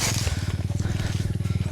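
Motorcycle engine idling on a rural village road in Salay, Paranas, Samar: a close, steady, rapid putter of evenly spaced exhaust pulses that keeps an unbroken rhythm.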